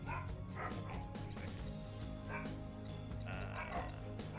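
Dogs barking and yipping repeatedly in the background of a Yu-Gi-Oh! Legacy of the Duelist game session, fairly faint beneath steady game music, with a voice speaking over them.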